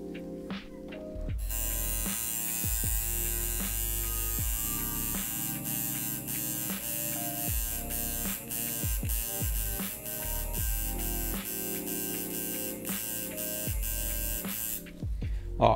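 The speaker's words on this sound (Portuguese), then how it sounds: "Eu tô tendo que passar a máquina muito rápido para fazer o rastelado" A tattoo machine buzzes steadily while doing rastelado shading, holding a constant electric drone with repeated short pulses and clicks throughout, close and clear with no talking.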